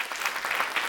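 A brief burst of hearty clapping from the audience at a Hindi awards ceremony in Delhi, dense and fairly close, with no talking.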